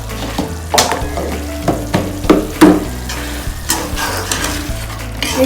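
Coconut curry with coconut paste stirred in a pan, a steady sizzle under repeated scraping strokes of a spoon against the metal, loud and close, with no talking.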